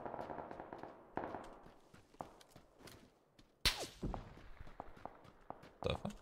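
Gunfire from the game PUBG: a few scattered sharp shots and impacts, one loud crack standing out midway, with quieter clicks and movement between them.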